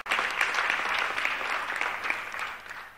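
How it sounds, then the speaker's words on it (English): A brief, fairly soft round of applause from the audience at an agricultural strategy launch event, with dense even clapping that tapers slightly toward the end. "Please, a round of applause for Madam Abiba."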